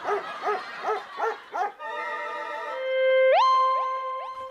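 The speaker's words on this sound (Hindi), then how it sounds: "अब काला कुत्ता भौंक रहा है" A black dog barks close by, giving five quick, rhythmic barks, and a sustained electronic tone with rising sweeps follows.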